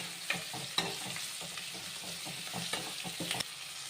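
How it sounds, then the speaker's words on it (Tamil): Onions sizzle and fry steadily in a pan for a Chettinad-style vegetarian curry, with occasional stirring scrapes and clinks over the continuous hiss. "வெங்காயம் நல்லா பொன்னரமாக வதங்கணும்."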